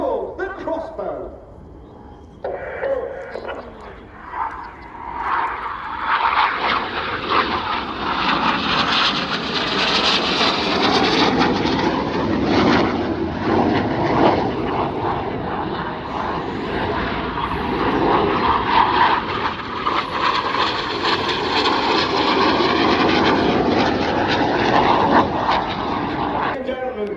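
Royal Air Force Red Arrows display jets roar overhead at an air show, a loud sustained engine rush that swells and holds for many seconds as the formation passes, with an announcer's voice under it.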